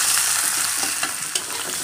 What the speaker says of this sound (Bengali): পেঁয়াজটা ভাজা ভাজা হবে